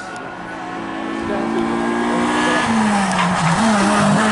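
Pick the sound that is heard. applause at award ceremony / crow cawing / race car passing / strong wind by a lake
race car passing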